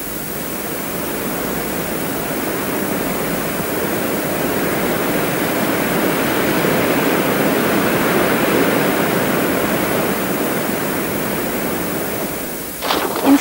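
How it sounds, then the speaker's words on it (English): Steady, dense roar of a waterfall and river rapids in Quebec, broadband rushing water continuing evenly throughout with no other sounds. "In Quebec, there are lots of lakes and rivers with rapids and waterfalls."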